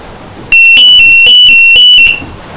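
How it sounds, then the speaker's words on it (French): Loud 120-minute timer alarm on a sailboat, a sharp electronic beeping that starts abruptly and pulses in a rapid repeating rhythm for about a second and a half before cutting off, close and alone. "Je pourrais vous faire écouter le réveil de dingue que j'ai."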